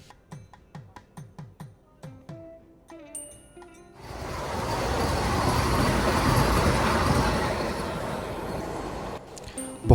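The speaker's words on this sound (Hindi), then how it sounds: "फाइनली अपना डिपार्चर हो चुका है काठपाड़ी जंक्शन से" The Kashi Tamil Sangam Express pulls out of Katpadi Junction. A few seconds of short repeated tonal chimes give way to a swelling, steady rumble and rattle of the moving train, heard up close from on board.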